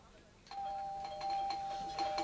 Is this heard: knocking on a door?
no